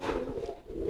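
A sick pigeon (merpati telo) coos close by, a short low throaty hum that dips briefly and swells again, heard alone with no talk.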